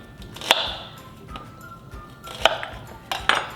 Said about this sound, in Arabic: باخد البصل وبقطع كل بصلة ل4